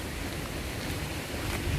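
Rushing mountain water streams down steadily near a footbridge, a dense broadband roar that stays constant and close, with low wind-like rumble underneath and no voices.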